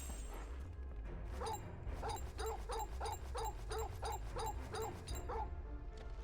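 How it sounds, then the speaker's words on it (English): Torgal, a wolf in a video game, gives a quick run of about ten evenly spaced barks and yips on command over a steady low game ambience. "Like I can make Torgal bark on command."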